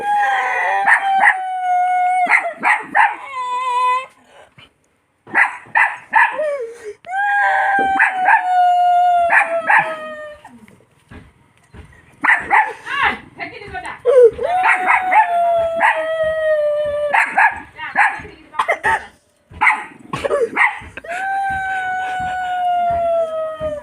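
A dog barks and howls in long, wavering bursts close by, alternating with short yelps and brief pauses.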